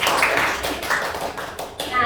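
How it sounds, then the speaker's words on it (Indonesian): A classroom group claps in applause, a dense run of overlapping hand claps that carries steadily for a couple of seconds while a teacher's voice speaks over it. "Berikan tepuk tangan dulu untuk Vera."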